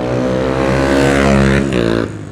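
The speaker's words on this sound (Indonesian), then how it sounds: "kendaraan motor kayak knalpot brong" Motorcycle with a loud aftermarket exhaust passing on a road under construction, a heavy, throaty engine drone that swells and fades as it goes by, loud and close with no talk.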